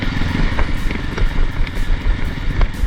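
A Hero X-Pulse motorcycle held in first gear on a steep mountain climb at high altitude in Lesotho, its engine droning steadily and close with a rough, throbbing pulse and occasional crackling pops.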